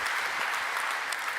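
Audience applause at a Unity keynote conference, a steady dense wash of clapping from a large crowd, loud and continuous throughout.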